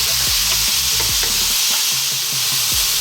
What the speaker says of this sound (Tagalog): bali nagisa na natin yung ating minced pork ng 5 minutes